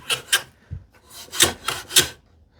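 A hand plane shaving the end grain of a wooden board held in an end grain vise, with about six short, crisp rasping strokes in quick pairs and bursts.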